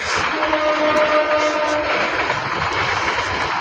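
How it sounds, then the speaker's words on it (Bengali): A train rumbles by on a nearby railway line through a village area, with a steady loud roar and a short tonal horn-like note early on. "এই ট্রেন যাচ্ছে পাশে, কিন্তু ট্রেন"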